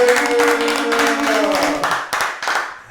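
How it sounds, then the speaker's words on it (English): A small group claps for a guest on a talk show, the brisk clapping running under a sustained voice and tapering off into a few scattered claps. "everybody give a big clap for Craig, a.k.a. Big Memphis."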